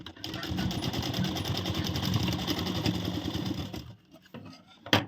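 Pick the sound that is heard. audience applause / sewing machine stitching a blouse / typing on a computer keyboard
sewing machine stitching a blouse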